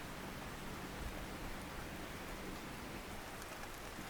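Rain falls in a southeast Australian forest at Cape Otway, Victoria, a steady, dense hiss of drops on leaves and ground with no pauses, close and enveloping but fairly soft.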